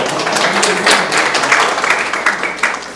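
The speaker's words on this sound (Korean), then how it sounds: "박수 한번 해요" Applause from a forum audience after a congratulatory address, a close, fairly loud burst of many hands clapping with some distinct sharp claps over three seconds.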